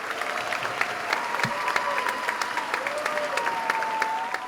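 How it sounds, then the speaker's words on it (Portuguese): A standing audience applauds guests at an evening talk event, sustained dense clapping at steady volume throughout, with a faint tonal hum running beneath the crowd. "Agora vemos a plateia de pé aplaudindo os convidados."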